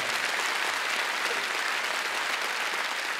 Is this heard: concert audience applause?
yes